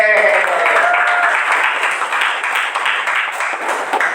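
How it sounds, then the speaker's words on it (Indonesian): A classroom of students claps along to a teacher's call-and-response clapping game, a dense, continuous patter of many hands throughout, loud and close, with voices mixed in. "Tepuk sore, tepuk pagi, tepuk siang, tepuk sore, tepuk malam."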